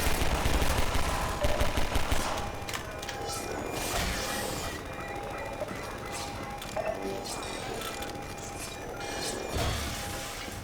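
Half-Life 2 combat with SMG fire and grenade blasts: clattering bursts of gunfire and scattered impacts layered over a busy game soundscape, fairly steady throughout at moderate level.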